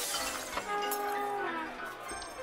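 Glass shatters in the party video game Max Gentlemen, a bright crash with tinkling shards ringing out continuously over busy game sounds.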